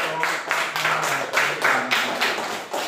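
A classroom group claps in a steady rhythm of about six sharp, evenly spaced bursts, loud and close, with little talk.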